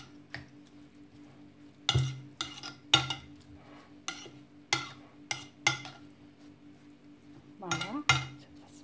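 Milk-soaked seffa vermicelli stirred by hand in a kitchen bowl, making about nine short, sharp scraping strokes in an uneven rhythm, close up, while someone briefly speaks between them.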